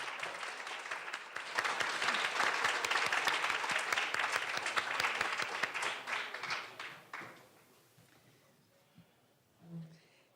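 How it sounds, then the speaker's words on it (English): Audience applause for council candidates at a debate held in a women's club, a dense round of clapping that swells, holds for several seconds, then fades out, followed by a brief murmur near the end. "Let's give these candidates a big round of applause."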